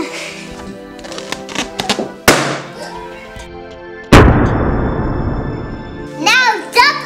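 Two sharp, loud bangs of balloons popping ring out a couple of seconds apart, surrounded by a child's chatter and squeals.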